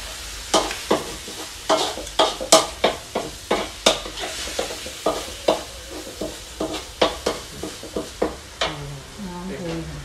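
Chili frying in a pan for a Thai red fish curry, with repeated sharp stirring scrapes against the pan over a steady sizzle, ending with a soft burble as water goes in.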